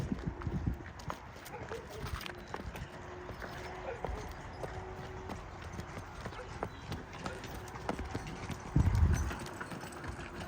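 Steady clip-clop of draft horse hooves walking at an even pace, moderately close, with a few faint voices and outdoor noise around it.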